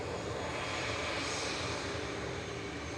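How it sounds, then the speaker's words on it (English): Engines of an EasyJet Airbus A320 Classic taxiing at an airport, heard as a steady, dense jet roar that stays even and unbroken with no talk. "EasyJet 2001 to Barcelona going there in the background. GZOU A320 Classic."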